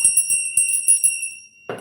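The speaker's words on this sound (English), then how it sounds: "Let's use a little bell." A small hand bell rings in a cleansing ritual, a run of light, bright tinkles repeating at a steady pace with a sustained shimmering ring, close and alone, before a brief soft rustle.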